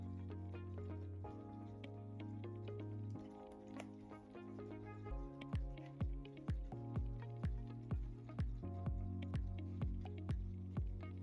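Liquid potassium fertilizer drips into a planted aquarium, about ten quiet, evenly spaced drops falling one after another over a steady low hum of equipment.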